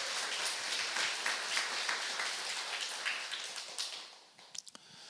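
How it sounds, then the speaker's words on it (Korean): A congregation claps during a Sunday church service, with sustained, fairly full applause that fades out near the end, followed by a few scattered claps. "박수 한번 쳐주시기 바랍니다"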